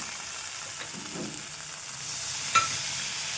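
Tomato sauce sizzles and gets stirred in a pan while cooking doi katla, a steady soft frying hiss with faint scraping of the spoon and one brief clink, no voices.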